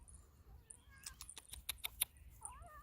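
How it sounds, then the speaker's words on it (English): A mother cat named Princess Rocket meows faintly in a quiet garage setting, a few soft drawn-out cries mixed with a brief run of small clicking taps. "Here comes Mother Cat."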